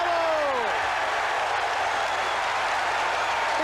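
Football crowd applauding a goal scored for Tottenham, a dense, steady wash of clapping from a large stadium audience held at an even level throughout, with no talk over it.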